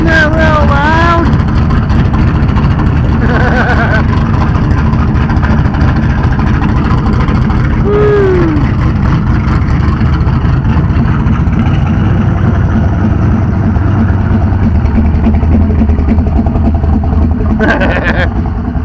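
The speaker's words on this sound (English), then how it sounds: "Oh, my car's loud." A loud car with an LS1 V8 engine runs steadily at an outdoor car show and swap meet, its continuous low rumble filling the whole scene while people talk nearby and whistling sounds rise briefly above it.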